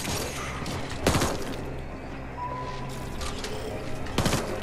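Gunfire in the video game The Ascent, heard as a few sharp bursts over a busy background of game sounds, moderately loud and near, with no talking.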